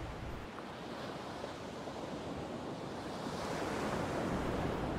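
Ocean waves wash and roar steadily, a broad hiss of surf building slightly louder toward the end, with no voices.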